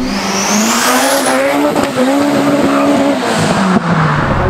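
A 420 hp Fiat Uno Turbo race car with 2.5 bar of boost accelerates hard, its engine note climbing loud and close. The note dips at two gear changes, with tyre squeal over the top.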